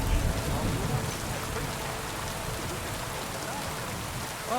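Heavy storm rain in a video game pours steadily in a dense, even hiss, with a low rumble swelling at the start and again at the very end.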